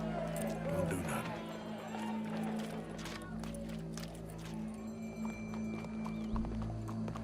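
Horse hooves clip-clop in the Western video game Red Dead Redemption 2, a steady walking rhythm at moderate distance beneath a low musical drone, with occasional whinnies and people talking.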